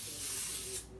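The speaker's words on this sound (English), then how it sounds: "You can go ahead and spray your pans" A short, close hiss of cooking spray from an aerosol can onto cake pans, lasting under a second before cutting off.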